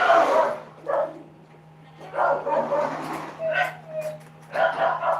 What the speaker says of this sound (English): So annoying, these dogs.